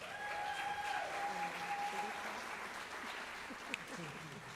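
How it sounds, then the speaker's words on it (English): School audience gives a round of applause at a celebration of learning; moderately quiet, steady clapping from a crowd continues throughout, with a faint tone early on and a brief sharp click near the end. "Let's give them another round of applause for being here."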